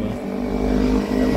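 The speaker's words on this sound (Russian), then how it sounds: "Мотоцикл." A motorcycle rides past on a street in Alanya, Turkey, its steady engine drone close and loud for the whole stretch with a slight swell, no talk over it.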